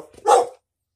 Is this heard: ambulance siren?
no